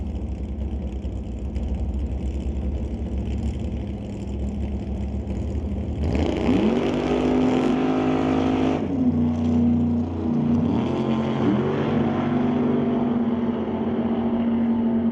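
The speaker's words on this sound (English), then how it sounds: "The Chevy 2 going up against the Mustang." Drag race between a Chevy II and a Mustang: steady engine rumble, then a loud launch about six seconds in as the cars rev hard and accelerate down the quarter-mile strip, the engine note climbing and holding.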